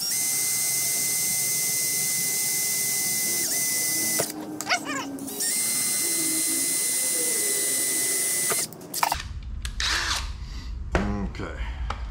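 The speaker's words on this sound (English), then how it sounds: "I'm gonna drill one on this side and one on that side" A power drill whines steadily through two long bursts, pausing briefly between them, then stops as handling noises and a voice follow.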